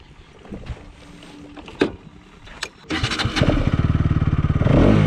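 A Bajaj Pulsar NS 200 motorcycle starts up close by, a few bursts of noise giving way to a steady, rising engine idle with rapid pulsing that grows louder toward the end.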